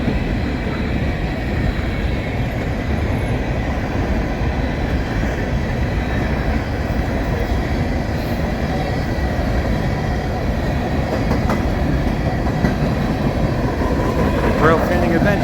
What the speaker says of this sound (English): Train coming around the curve and over the bridge